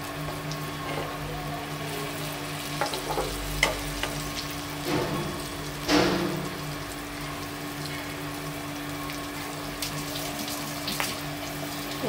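Hilsa fish fries in a pan, a soft steady sizzle with a constant background hum and a few brief clatters and bumps, close and moderately quiet.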